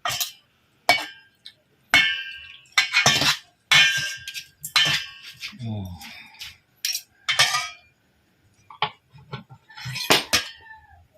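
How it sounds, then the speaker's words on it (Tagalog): Ingredients being stirred in a cooking pot for a simple Ilocano pulutan dish, with clinks and scrapes of a utensil against metal coming in irregular bursts, close and fairly loud, separated by short quiet gaps. "Haluin natin."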